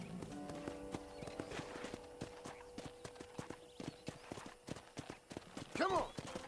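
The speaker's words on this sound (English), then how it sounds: "let's see if you can still ride a horse." Horse hooves clopping at a steady trot in Red Dead Redemption, with people talking over them and a brief whinny-like cry near the end.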